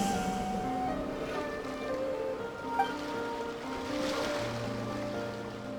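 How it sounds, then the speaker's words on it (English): Ocean waves wash in a steady, soft surf within a video game, under a bed of sustained musical tones, with no talking. "Go to where you can hear the sound of the waves."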